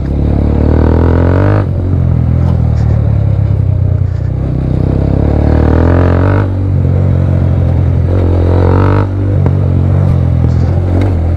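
A TVS Apache RTR 200 motorcycle off-roading, its engine loud and close, droning and revving continuously with dips in pitch as the throttle rises and falls, and no talk.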